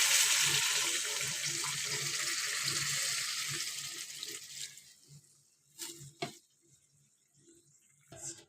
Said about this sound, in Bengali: তো চলো এবার তাহলে জলটা দিয়ে দিই আমার পরিমাণ মতন